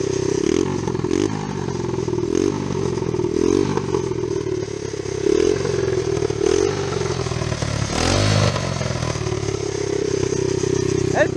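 A 125cc motorcycle engine with a newly fitted exhaust idles roughly and revs up repeatedly in bursts, loud and close, with popping and rattling between throttle blips.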